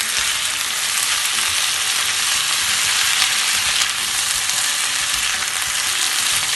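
Potatoes and spring onions frying in a pan while being tossed, giving a loud steady sizzle that runs unbroken throughout, with faint stirring scrapes beneath it.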